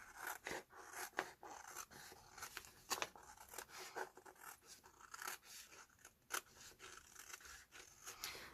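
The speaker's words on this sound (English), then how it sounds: "I'm not using the guillotine, I'm using my scissors." Scissors cut printed paper at close range, giving a run of irregular snips and crisp scraping strokes with brief pauses between cuts and no voices.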